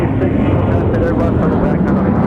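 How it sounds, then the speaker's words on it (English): Delta Boeing 717 jet departing the north parallel runway at Minneapolis–St. Paul airport, a steady loud broadband engine roar sustained throughout. "Look at that 717's turn after departing the North Parallel."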